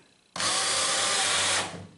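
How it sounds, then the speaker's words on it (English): Power drill driving a screw into a 2x4, a sudden loud whirring burst lasting just over a second before winding down, with no talk over it. "now we can put the screw in"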